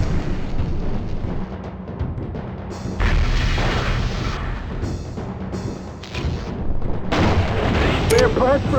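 Heavy weapons fire and rolling explosions during mech combat in the classic PC strategy game MechCommander, loud and continuous with repeated booming blasts, a short voice line over the battle.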